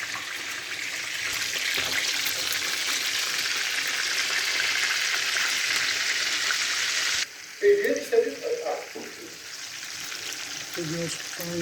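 Bread sizzles and crackles in a frying pan as a steady hiss for about seven seconds. Clinks and scraping from the pan follow, with soft clatter under faint background noise.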